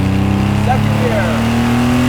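RWB Porsche 911 930 pulling hard in second gear, its engine droning loud and steady with a rising pitch throughout, close up from inside the car.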